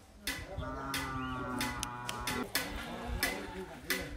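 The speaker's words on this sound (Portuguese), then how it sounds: "Ô, maior vacada aí, ó. A vacada tá só esperando pra dar o leitinho." A herd of dairy cows on a farm lowing at milking time, deep drawn-out moos overlapping one after another, close and loud, with people talking nearby.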